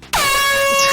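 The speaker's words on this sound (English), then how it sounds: "You mean this air horn?" A single loud, sustained blast of an air horn, sharp onset and bright brassy tone held for about a second, very close.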